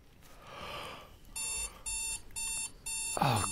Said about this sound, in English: I have that alarm clock.